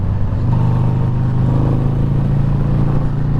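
A Harley-Davidson motorcycle engine revs hard and steadily close by, a loud, deep, continuous rumble without breaks for several seconds.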